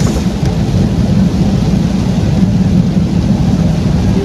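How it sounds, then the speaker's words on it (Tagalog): Steady rain hisses and pours continuously on the NLEX expressway at Pulilan, Bulacan, a dense broadband wash with low rumbling underneath, no voices. "Nag-uulan-ulan na dito sa NLEX."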